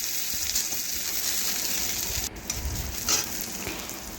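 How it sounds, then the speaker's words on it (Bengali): Chopped onion frying in hot oil with bay leaf and Bengali five-spice, a steady close sizzle throughout with scraping stirs and a brief dip midway as the pan is worked. "নাড়াচাড়া করে ভেজে নিচ্ছি"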